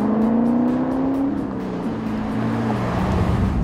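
A car weaving through a slalom exercise during a teen driving lesson, its engine droning steadily at close range with pitch rising and falling as it steers back and forth, no talk over it.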